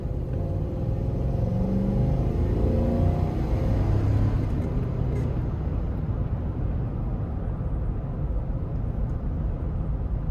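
A 2005 Toyota Sequoia's 4.7-liter V8 with a 5-speed automatic accelerates, a steady, loud low engine rumble and road roar holding throughout with no talk.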